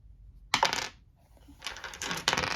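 A d8 die from a D&D Essentials Kit tumbling onto a tabletop, one sharp close clatter followed by a second burst of rolling rattles, alone without voices.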